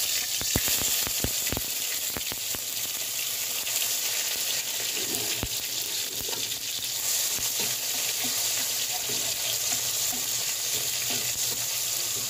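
Tomatoes sautéing in a pan give a steady, close sizzle and crackle, with sharp clicks and scrapes from stirring near the start.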